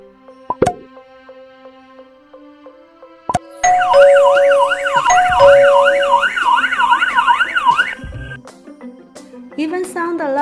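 Electronic alert tones from a Bluetooth device: sharp plops and clicks, then a loud warbling siren-like beep pattern lasting a few seconds, followed by more chirps and rising tones, close and clear with no talking.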